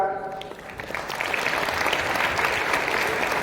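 An audience at a Shivaji Jayanti lecture breaks into broad, steady clapping. A voice is heard briefly at the start, then the applause swells and holds to the end.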